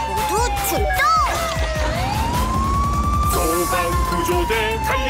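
A rescue-team vehicle siren in a Korean children's rescue song, with a smooth wailing tone dipping and rising again over a steady drum beat, synth music and singing.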